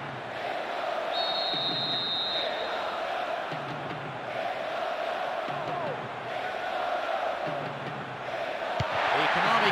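A steady, dense murmur from a stadium crowd of supporters before a football video game match, a continuous roar that holds near-constant loudness throughout with no single voice standing out.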